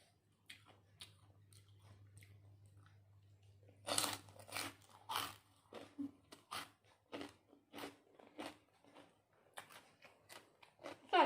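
Crispy pork rinds are chewed close up as part of a meal with pounded bean salad and fried chicken, giving loud, rhythmic crunches that start after a quiet low hum and repeat steadily.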